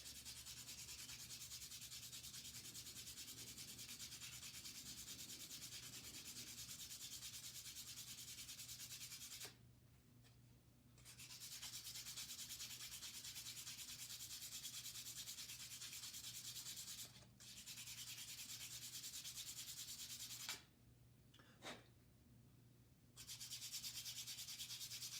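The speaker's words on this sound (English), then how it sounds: "The object of this is just to get the entire pipe sanded." Steady, scratchy rubbing of hand sanding a stone pipe continues on and on, broken by three brief pauses, close and fairly quiet.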